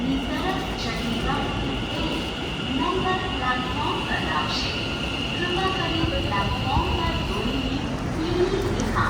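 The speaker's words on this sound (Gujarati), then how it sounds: "જો મિત્રો મેટ્રો ટ્રેન આવી ગઈ છે" A metro train in Gandhinagar, Gujarat rumbles steadily through a station, loud and close, with a sustained high tone and people talking over it throughout.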